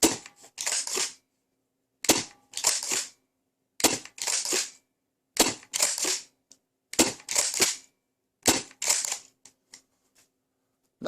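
A Lizzy 3.0 foam blaster, a cheap knockoff, fires a series of sharp, loud snapping shots, usually in close pairs and triplets, with silent pauses between the groups.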